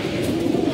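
Racing pigeons at a loft coo in a steady, low, rolling murmur that carries on without a break, fairly close and full, with no talking over it.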